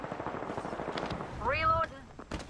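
Gunfire in the video game Apex Legends, a rapid burst of shots at moderate volume, with brief game voice lines overlapping the firing.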